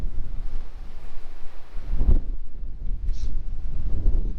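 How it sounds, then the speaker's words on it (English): Gusty wind buffets the microphone on a beach in Homer, Alaska, a continuous low roar that rises and falls in surges, with a sharper blast midway. "It is just a bit windy."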